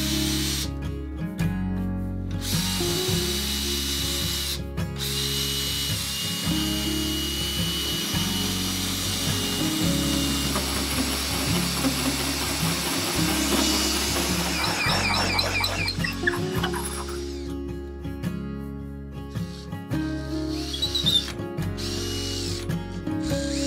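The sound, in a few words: drill with large hole saw cutting wooden transom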